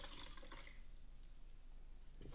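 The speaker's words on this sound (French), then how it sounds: "je vais le rincer" Water rinsing off a piece of furniture being refinished, a brief splashing wash at the start that quickly fades into a quiet hiss, with a faint rustle near the end.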